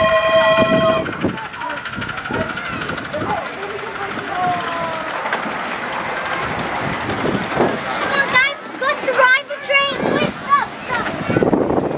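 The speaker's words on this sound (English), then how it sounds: "We have to wait for the train." A small electric miniature railway train at Eastbourne rumbles and clatters closer, its horn sounding a steady tone at the start, while people talk and exclaim excitedly over it.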